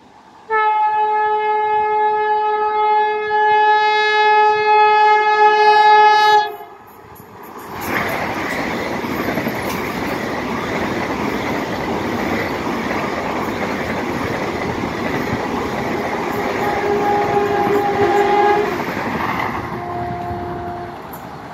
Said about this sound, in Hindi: इस साइड से एक फ्राइट ट्रेन आ रही है